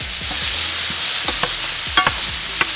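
Grape tomatoes with salt cooking in a hot pan, a steady close sizzle broken by repeated stirring scrapes and small sharp pops, with no talk.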